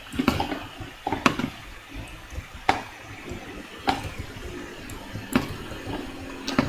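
Minecraft water sounds as a bucket of water is placed and flows, heard as a series of sharp splashy bursts about every second or so, fairly close and alone, with no talk.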